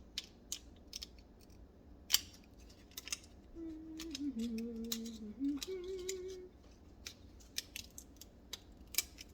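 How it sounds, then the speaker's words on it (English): Scissors snip out small wing shapes for a toy pony craft, faint quiet clicks and cuts scattered irregularly, with a soft creaking mechanical sound in the middle. "I want to cut those little shapes that I'm going to want in it"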